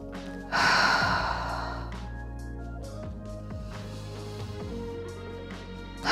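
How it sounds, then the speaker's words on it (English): A deep, audible exhale during a yoga flow, a long breathy sigh near the start that fades into soft sustained background music, followed by quieter breaths. "Breathing here."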